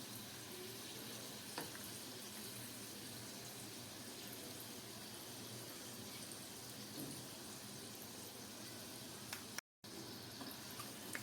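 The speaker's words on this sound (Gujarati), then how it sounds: "કચોરીને આ રીતે ફેરવતા જવાની છે અને તળતા જવાની છે" Green pigeon-pea kachori deep-fries in hot oil with a steady, faint sizzling hiss that continues throughout, no voices.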